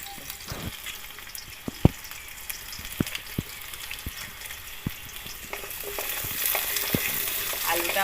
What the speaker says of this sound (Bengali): আমার ভাজা হয়ে গেছে